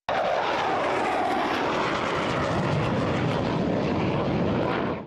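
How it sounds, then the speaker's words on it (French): A loud, continuous jet-engine roar of Mirage 2000 fighter jets taking off fills the whole stretch, holding a powerful broadband rush before easing off slightly at the end. "Les chasseurs français Mirage 2000 décollent pour dissuader et neutraliser la menace."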